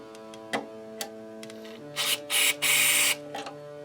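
Cleaner sprayed into a broken guitar unit being worked on during a setup: several short hissing bursts, the last ones longer and louder, over a faint steady hum with light handling clicks before them.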